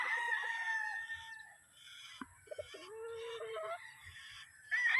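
Cockerels crowing in a yard, several long calls overlapping at moderate distance, with a short pause and a fresh crow rising at the end.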